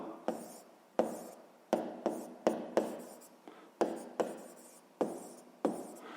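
Pen strokes on paper while math is written out, a series of about a dozen short sharp scratching taps in irregular rhythm, close and fairly soft, with no talk.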